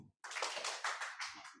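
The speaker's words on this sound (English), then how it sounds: "If you can hear me, clap once." Audience clapping in a conference hall, a short burst of many hands applauding together at moderate distance, steady and dense for about a second and a half.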